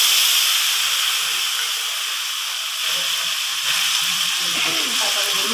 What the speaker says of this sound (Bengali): আর এদিকে আমার কড়াইতে তেল গরম হয়ে গেছে। এর মধ্যে দিয়ে দেবো এবার জিরে ফোড়ন।